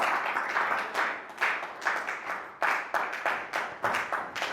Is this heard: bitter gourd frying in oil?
no